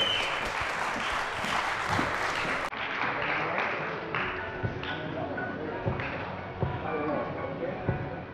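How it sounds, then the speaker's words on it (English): Audience applauding at a women's bikini competition, dense steady clapping that carries on for several seconds, with a host's voice heard over it partway through. "Please, a round of applause again"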